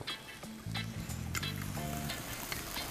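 Vodka flares up in a pan with mushrooms and shallots, giving a steady, close hissing sizzle with a low rushing whoosh, joined by faint tonal hums and clinks partway through.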